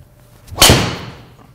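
A golf driver strikes the ball off the tee on a big drive: one sharp, loud crack followed by a fading whoosh as the ball flies away, with quiet surroundings before and after.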